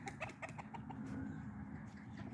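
Barnyard fowl, including ducks, cluck and call in a few short, fairly faint bursts over soft outdoor background noise.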